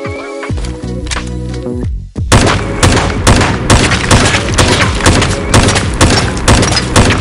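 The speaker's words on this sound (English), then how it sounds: "This mod increases the volume of the impact sound of bullets on all surfaces, their sound cracks and tails." Gunshots and bullet impacts in Fallout 4 with a bullet impact sound mod fire as dense, loud repeated cracks and thuds, after a brief musical opening.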